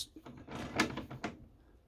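Central locking mechanism on the drawers of an Itineo SB740 motorhome, heard as a short run of quiet clicks and knocks ending in a sharper latch snap, fairly close.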